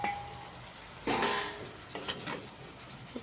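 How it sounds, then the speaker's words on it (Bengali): Hot oil spattering in a frying pan during home cooking, with a soft crackle that swells into a loud, broad hiss for about half a second, then settles into fainter scattered pops. "তেলটা ছিটকাচ্ছে, তো জলটা দিয়ে দিলে তেল ছিটকানিটা কমে যাবে।"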